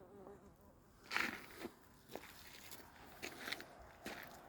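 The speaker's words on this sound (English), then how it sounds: "It's a carder bee." A carder bumblebee buzzes faintly around garden flowers, its hum broken by scattered soft taps and rustles at irregular intervals.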